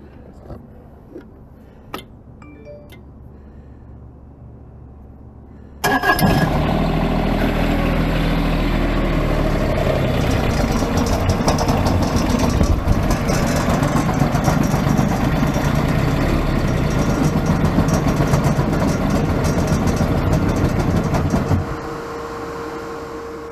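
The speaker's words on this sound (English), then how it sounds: "Let's start this machine up and check for leaks at that fuel filter." A Bobcat MT85 compact track loader, its fuel filter freshly replaced, cranks after a few faint clicks, then catches and runs with a loud, steady diesel rumble for about fifteen seconds before dropping to a quieter idle.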